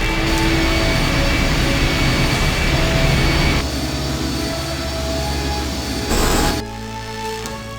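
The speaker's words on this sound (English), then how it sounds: "The engine's starting up again." A machine engine starts up in the video game I Have No Mouth, and I Must Scream, producing a loud, steady mechanical roar with humming tones. The roar shifts partway through, then swells briefly and drops off near the end.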